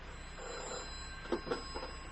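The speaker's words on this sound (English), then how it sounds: "When I got home again, my telephone was ringing." A home telephone rings in short repeated bursts over a steady background hiss, fairly faint and with no voices.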